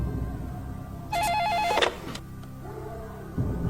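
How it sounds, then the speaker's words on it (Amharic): An indoor telephone rings with a warbling electronic trill that repeats in a short burst, loud over a low steady hum, then stops and leaves a quiet room. "ስልኩ ጣላ። እኔ ላንሳው?"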